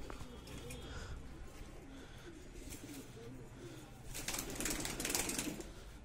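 A neighborhood pigeon perched on a rooftop gives low, soft repeated coos at a modest distance. Near the end a rustling, flapping burst rises, and faint background voices come and go.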